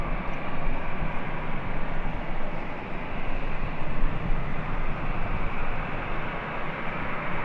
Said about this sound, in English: This flight heading to Austin, Texas. Delta Airlines Flight 574, this A320.